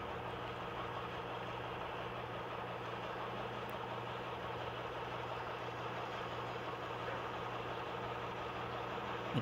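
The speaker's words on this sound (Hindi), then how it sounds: "चलिए, हमने ट्रक स्टार्ट कर लिया है।" A basic truck idling in the Offroad Masters game, a steady low drone with an even hum that runs unchanged throughout, no voices.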